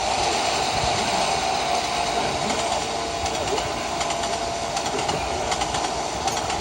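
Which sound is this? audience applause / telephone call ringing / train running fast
train running fast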